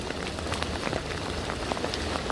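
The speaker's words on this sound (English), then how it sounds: "the rain has really started to come down within the last 30 seconds or so" Steady rain pouring down during a storm in Moore, Oklahoma, amid tornado search and recovery, a dense even patter filling the whole stretch with no voices.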